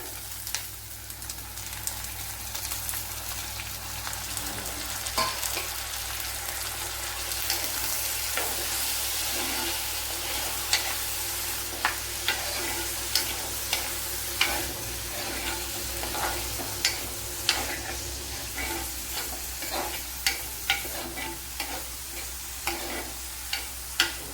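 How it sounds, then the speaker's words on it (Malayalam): Snake gourd with chili flakes fries in a pan with a steady close sizzle, and spoon taps and scrapes come back at regular intervals, growing sharper toward the end. "ഈ പടവലങ്ങ ഇട്ട് കൊടുക്കാം"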